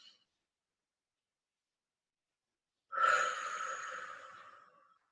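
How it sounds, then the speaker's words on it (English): A single deep breath during a stretching exercise, a soft airy exhale that swells after nearly three seconds of silence and fades out slowly, close and alone. "now I can breathe nice and deeply,"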